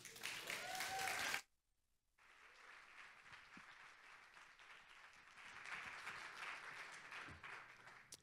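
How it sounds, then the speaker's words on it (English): Audience applause at a food biodiversity talk, a steady wash of many hands clapping that carries on for several seconds after a brief pause, moderately loud and without speech over it. "Please give her a round of applause."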